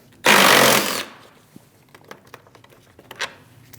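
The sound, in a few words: removing 10mm radiator fan bolts on a Chevrolet Malibu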